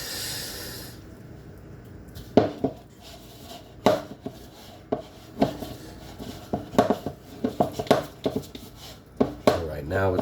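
Hands knead pizza or focaccia dough worked with olive oil, giving soft irregular slaps and squishy presses that repeat at an uneven pace, close by, with low breathy background noise.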